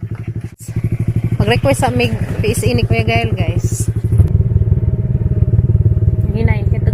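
A motorcycle engine runs close by with a loud, steady, pulsing drone that swells toward the end, while people talk over it.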